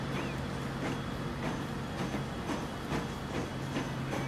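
A train passes steadily in the Transport Fever game, its wheels clacking in a regular rhythm over a constant low rumble, with no voices.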